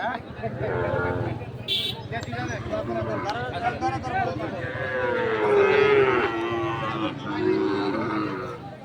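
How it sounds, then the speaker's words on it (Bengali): Calves moo repeatedly with long, drawn-out low calls, close by, amid a crowded cattle market at Ambari Haat with voices talking in the background. "এখানে দুটি বাছুর দেখছি আমরা চমৎকার দুটি বাছুর"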